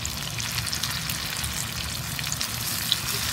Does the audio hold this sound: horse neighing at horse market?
no